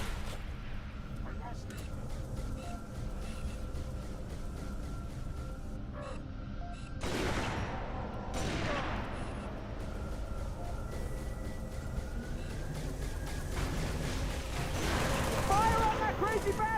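Gunfire in the video game Halo 3: ODST, sustained bursts of weapon fire with a few heavier blasts over a steady game soundscape, with voices shouting over the fighting.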